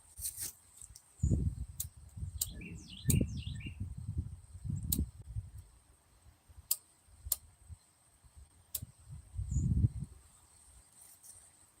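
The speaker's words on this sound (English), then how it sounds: "I'm finally able to hear a bird." A few faint, brief bird chirps sound in snowy Texas woods on a winter morning, scattered among sharp clicks and low rumbling handling noises nearby.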